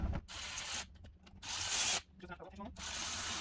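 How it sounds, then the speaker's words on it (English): A 4mm Allen driver snugs up the mounting bolts on a Rokblokz mud flap fitted to a 2021 Ford F150, giving three bursts of close, loud ratcheting clicks separated by brief pauses. "Now we're going to take our 4mm Allen driver and lightly snug all of these up."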